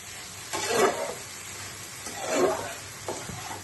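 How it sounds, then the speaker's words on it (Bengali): Chopped kharkol (arum) stalks frying in a pan with a soft, quiet sizzle that swells twice as the pieces are stirred, with no talking. "আমার এই ডাটাগুলো ভাজা হয়ে গেছে"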